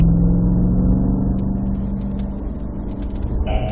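Cadillac CT5-V Blackwing with a six-speed manual, engine droning at steady revs on a wet race track at Spring Mountain in Pahrump, loud and close from inside the car, easing slightly as the throttle lifts.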